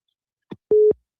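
An incoming-call tone on a telephone line: a short click followed by a single steady electronic beep lasting about a quarter second, clear and isolated against silence.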